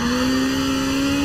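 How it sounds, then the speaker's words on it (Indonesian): A Peugeot 207 Super 2000 rally car engine in the video game Forza Horizon 4 holds a steady high-revving drone throughout, loud and close, with no voices over it. "Ini seru sih mobil ini rally"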